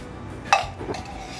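A metal spoon clinks once against a vessel while desi ghee is stirred into a coconut barfi mixture, a single bright chime followed by soft scraping and mixing.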